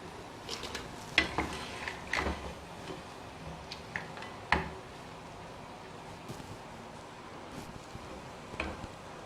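Crackling, popping bubbles of chapati pieces deep frying in hot oil into corn-style chips, with sharp intermittent spatters over a steady sizzle and a few faint clinks.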